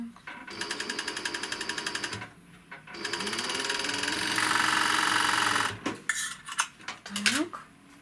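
A sewing machine stitches a seam on a white lace blouse in short bursts of rapid, rattling stitching, separated by pauses with handling noises and a higher-pitched whirring stretch in the middle.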